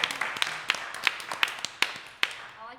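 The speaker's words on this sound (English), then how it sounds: "Y'all give them a round of applause" Sparse, scattered handclaps from a small live audience at a holiday event, a handful of sharp individual claps spaced irregularly and fairly quiet.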